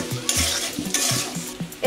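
Turmeric powder and ginger paste frying in a pan for a raw jackfruit curry, with a bright sizzle and quick rhythmic spatula scrapes, loud and close.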